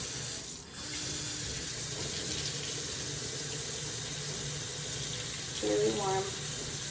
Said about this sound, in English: So just gonna turn our water on.